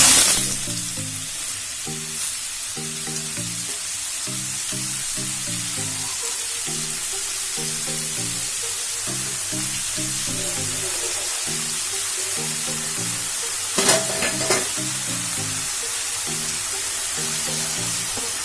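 Mushrooms frying in hot oil with cumin and mustard seeds give a steady close sizzle throughout, with a few brief clinks of stirring partway through.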